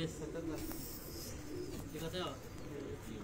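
Pigeons on a rooftop coo softly and steadily beneath conversation, with low murmuring calls blending into the background while people talk nearby.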